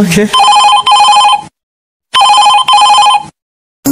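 A telephone rings while someone calls the police, with loud, close electronic ring bursts in two double-ring cycles separated by a short silence.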